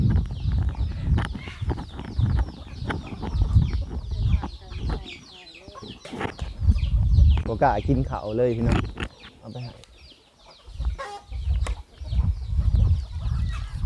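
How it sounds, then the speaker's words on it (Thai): Chickens clucking and squawking nearby among ducks in a farmyard, the bird calls mixed with someone talking throughout. "ไก่กระโหดเกินนะพี่น้องเนาะ"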